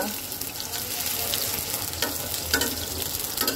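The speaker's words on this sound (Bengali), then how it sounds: "আলুটাকে সুন্দর করে ভেজে নেব।" Potatoes fry in a pan of hot oil with bay leaf and whole cumin, giving a steady close sizzle with occasional stirring scrapes and brief louder crackles.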